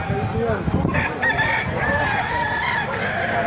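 Hens and roosters cluck and crow close by at a busy poultry market in Bocaue, Bulacan. The birds are continuous and loud, with people talking among them.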